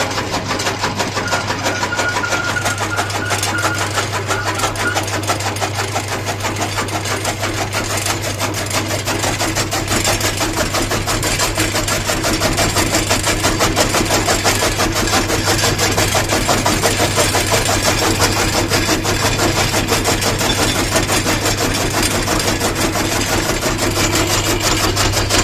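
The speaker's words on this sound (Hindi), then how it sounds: "तो अब इस वॉशिंग मशीन को देखें।" A washing machine in a village home runs with a steady, even motor hum and drone throughout, with no pauses and no talk.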